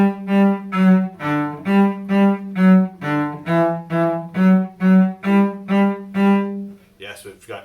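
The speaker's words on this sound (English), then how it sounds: "when you're getting comfortable with the bow and you play with the bow, it sounds like this." Bowed cello playing a simple melody of sustained, rich low notes in an even pulse, about a dozen strokes, followed by brief talk at the end.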